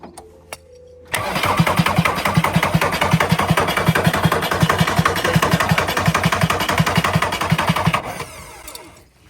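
Barn-find VW Caddy diesel engine cranking and catching, a loud rhythmic chugging clatter that runs steadily for about seven seconds, close up, then cuts out.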